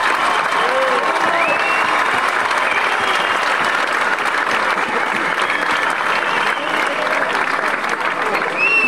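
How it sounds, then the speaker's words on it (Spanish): A large crowd gives sustained, loud applause at a paloteado folk dance event in Ribaforada, dense clapping mixed with cheering voices and shouts throughout. "Venga, un aplauso gordo"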